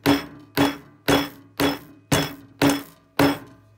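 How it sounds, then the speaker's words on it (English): Seven sharp, evenly spaced hammer blows striking a nail, each a bright metallic knock with a quick decay, close up and loud. "and then start to hammer it in."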